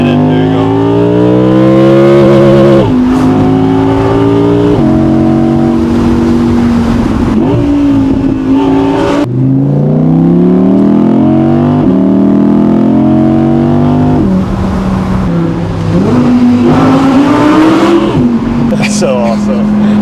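Naturally aspirated German supercar engine revs and rumbles loudly from inside the cabin while driving in Mexico, its pitch climbing and dropping through repeated gear changes over twenty seconds, with occasional voices beneath.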